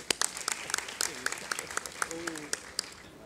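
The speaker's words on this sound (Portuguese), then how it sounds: "Palmas para ele." Conference audience clapping for a keynote speaker, scattered distinct claps over a light crowd wash, with brief voices and murmurs underneath.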